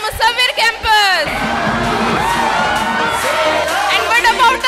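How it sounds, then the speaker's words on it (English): Students in a school hall cheer and shout, a dense crowd roar with whoops and children's yells rising and falling, preceded by a few bursts of voices over a loudspeaker. "Show your presence with your wonderful clap."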